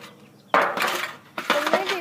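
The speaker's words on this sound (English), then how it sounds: "lay out your pans in front of you" Metal pans are set down on a table for a milk and food coloring experiment, two clattering clanks with brief ringing chinks, close and fairly loud.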